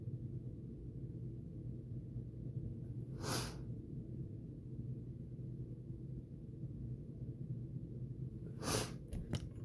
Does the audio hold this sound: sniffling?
yes